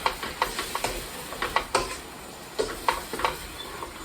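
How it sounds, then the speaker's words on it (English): Keto Pad Prik King gravy with green beans simmers in a pot, a soft bubbling hiss broken by a quick series of light utensil taps and scrapes from stirring, with no one talking. "we're just going to let that simmer for a little bit"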